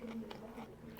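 A gouda cheese croquette from a McDonald's in Morocco is bitten once: a short, soft, close crunch under a low background murmur.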